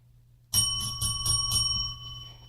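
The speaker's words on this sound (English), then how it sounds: "there's the magic bell" A small bell rings close by, starting suddenly and sounding five or six bright, rapid strikes over a steady low hum before the ringing fades.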